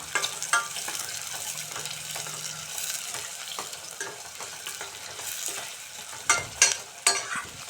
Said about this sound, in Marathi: इकडे मी बारीक चिरलेला कांदा टाकत आहे कांदा थोडासा लालसर होईपर्यंत भाजून घ्यायचा